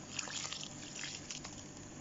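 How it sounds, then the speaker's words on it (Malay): Sugar-palm molasses water poured into bougainvillea potting medium, a quiet, close trickle and dribble of liquid soaking in with faint splashes. "Lepas tu kita siramkan ya dalam media tanam ni."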